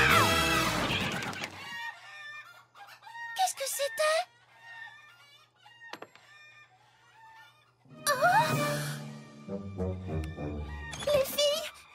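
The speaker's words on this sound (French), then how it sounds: "Fluttershy, tes poules se sont enfuies!" Cartoon chickens cluck and squawk in several loud bursts separated by quieter gaps, with a brief crowing-like call, while animated voices talk between them.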